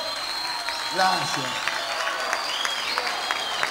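Clapping from a live audience runs steadily in the background while someone briefly speaks over it into a microphone, the applause continuing at an even level underneath.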